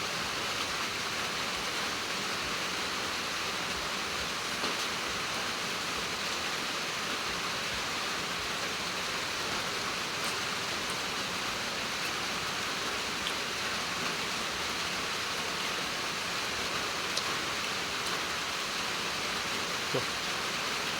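Steady rain falling in a rural Thai setting, a dense even hiss that stays constant and moderately loud for the whole stretch, with no distinct drops or voices standing out.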